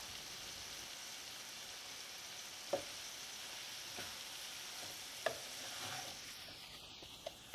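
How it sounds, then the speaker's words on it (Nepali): Boiled potatoes stirred and fried in a pan for cauliflower sabzi give a steady soft sizzle, with a few sharp clinks of a spoon against the pan, no voices. "अब यसमा उसिनेको आलु हालेर राम्रोसँग मिक्स गरेर चलाउने"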